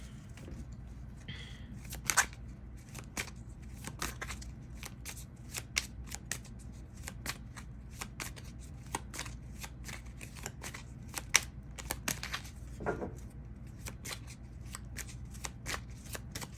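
Tarot cards being shuffled and handled: a long run of soft riffles, taps and flicks in an uneven rhythm, close but quiet, with no talk over it.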